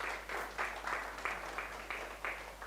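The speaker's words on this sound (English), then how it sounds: "Please give them a round of applause." Audience clapping at a sommelier contest, heard as a series of soft, evenly spaced bursts over a steady low electrical hum, fairly quiet and distant-sounding.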